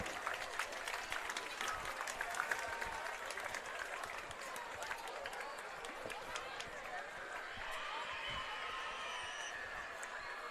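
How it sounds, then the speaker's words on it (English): Crowd applause in the stands at a high school football game, East Bakersfield at Highland, a steady distant patter of clapping with faint cheering that holds for about ten seconds. "Round of applause for Isaiah Santiago."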